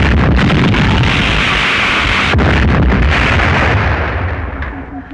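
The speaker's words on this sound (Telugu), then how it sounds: "బాంబు పెట్టాం. కాసేపట్లో పేలుతుంది." A bomb explosion in a comedy film scene bursts loudly at once, a dense rumbling roar that holds for several seconds before slowly fading.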